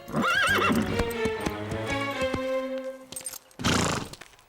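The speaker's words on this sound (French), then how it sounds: "Diablo est un cheval très intelligent, plein de fougue, mais qui refuse d'obéir" A cartoon horse whinnies in a loud, wavering neigh, then hooves clip-clop in a quick run of sharp knocks, with a second short burst of whinnying near the end.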